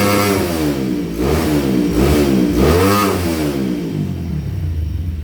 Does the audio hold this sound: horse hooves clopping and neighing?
no